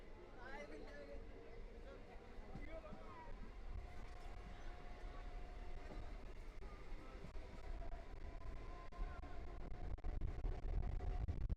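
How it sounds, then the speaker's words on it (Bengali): A Sealdah–Baruipur local train rumbles steadily along the tracks near Sonarpur station, a continuous rolling clatter with low drone and some squealing tones, people talking faintly underneath. "আমাদের ট্রেনও ছেড়ে দিয়েছে দু মিনিট লেটে"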